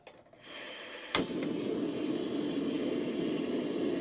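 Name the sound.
butane camping stove burner running on high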